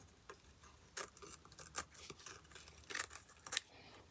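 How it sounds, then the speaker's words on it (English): Scissors snipping bookbinding mull to size, several quiet, close cuts in quick irregular succession with soft rustling of the fabric between them, without any talking. "I'm just going to trim this mull down ever so slightly."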